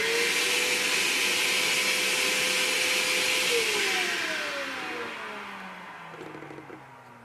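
A small workshop dust extractor whirs steadily near and loud, its motor pitch shifting and the roar slowly tapering off toward the end.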